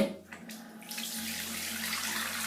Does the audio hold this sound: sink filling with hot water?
yes